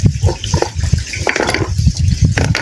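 Water runs steadily through a rocky crevice in a village stream where stones are being lifted to catch crabs, a continuous close splashing gush with no pauses.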